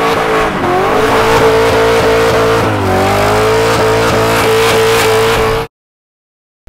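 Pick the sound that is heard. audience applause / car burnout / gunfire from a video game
car burnout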